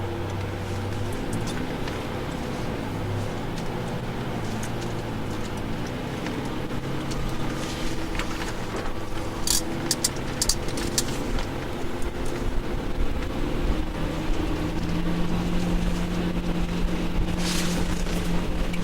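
Engine of a Lamborghini Murcielago LP640 pulling out gently onto the Las Vegas Speedway: a steady low rumble with a tone that climbs slightly, loud and continuous, without speech.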